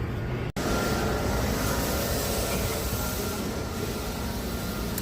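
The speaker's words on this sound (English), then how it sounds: "I'm on a train in Japan." Continuous low rumble and hiss of a moving train in Japan heard from inside, with a brief sharp dropout near the start, then steady running noise.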